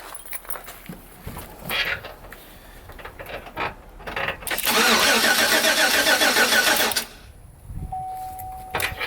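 A car engine cranks in a long steady burst without catching, loud and continuous, followed by quiet with a faint electronic tone, while a person talks earlier.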